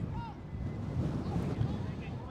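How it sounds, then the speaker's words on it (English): Strong wind buffets the microphone on an open field during a 2026 outdoor field match, a low rumbling roar that swells and eases in gusts, with faint voices audible underneath. "It is that windy."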